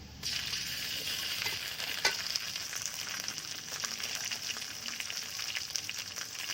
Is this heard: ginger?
yes